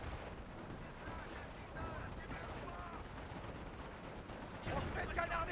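Enemy infantry gunfire in Company of Heroes, set in the Battle of Normandy: steady rattling rifle and machine-gun fire with distant booms runs throughout, fairly faint, under soldiers' voices.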